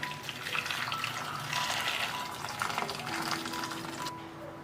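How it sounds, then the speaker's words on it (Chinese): Tap water runs steadily over cherry tomatoes being rinsed clean in a kitchen sink, a continuous splashing stream at moderate level with no talking. "洗干净后用开水浸泡15分钟"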